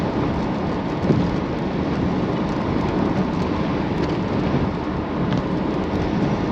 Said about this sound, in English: we've got just a big mess of storms right now